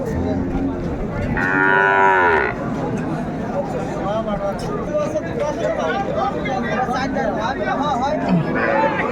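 Cows and calves mooing at Ambari cattle market in Dinajpur, a long loud low moo near the start with further calls over the constant chatter of a crowd of people talking.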